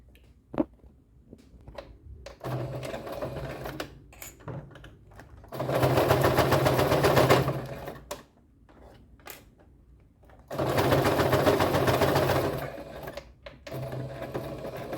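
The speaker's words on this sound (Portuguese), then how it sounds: "E aí, passo uma costurinha aqui." A sewing machine stitches the folded edge of a clear fabric pencil case, running in two long steady bursts with short clicks and handling noises in between, close and fairly loud.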